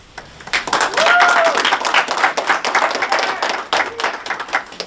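Audience at a sheriff's office academy graduation ceremony clapping and cheering for a graduate, a dense, fairly loud burst of applause with a whistle and shouts mixed in, lasting several seconds.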